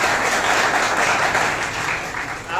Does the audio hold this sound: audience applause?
yes